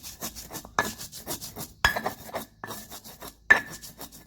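Spices for a young bamboo shoot vegetable dish are ground by hand, a close rhythmic rubbing and scraping of stone on stone with a few sharper knocks, steady strokes repeating over a few seconds.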